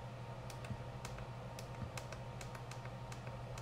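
Clicky button presses on a FrSky X9D Plus radio transmitter while entering a name, a quick irregular run of light taps over a steady low hum.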